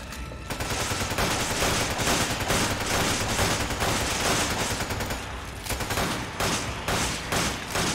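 Rapid AK rifle and pistol gunfire in Resident Evil 5 co-op play, a dense continuous barrage of loud shots with brief pauses, close and unbroken by talk.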